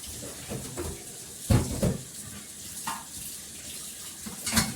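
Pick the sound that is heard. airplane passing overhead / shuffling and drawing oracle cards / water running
water running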